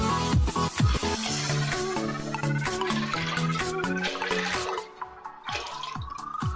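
Water is poured into a pot of rice for vegetable biryani, three and a half glasses for three-quarters of a kilo of rice, a close, continuous splashing and dripping pour with a tonal hum running beneath it.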